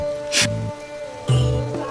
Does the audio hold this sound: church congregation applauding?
no